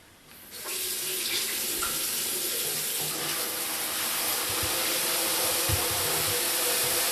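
Tap water pours steadily into a plastic beer fermenter bucket, a loud continuous rushing fill that starts abruptly and runs without talk.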